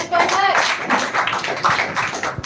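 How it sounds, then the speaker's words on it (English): Clapping breaks out at an English-learning event finale on books, as a performer is introduced; scattered, close hand claps mingle with voices and chatter throughout. "So give a big round of applause for"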